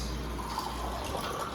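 Water is poured into gulab jamun dough, giving a soft, steady liquid trickle and gush that runs close and continuous with no talk over it.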